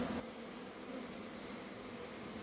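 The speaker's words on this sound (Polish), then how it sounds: "pszczoły już prawie weszły" A caught swarm of honey bees gives off a steady, low, continuous buzz at close range. The hum holds even and unbroken throughout, with no voices.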